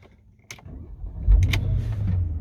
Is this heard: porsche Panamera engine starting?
yes